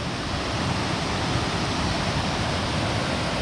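Waterfalls on a small river roar in a steady, dense, close rush of water that fills the whole stretch evenly, with no voices.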